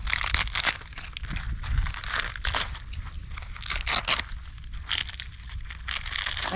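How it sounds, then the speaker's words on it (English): Dry loofah gourd pod being crunched and its brittle skin peeled away by hand, giving a close, steady run of crackling, crinkling and tearing sounds with no talking. "and then you can peel the skin off."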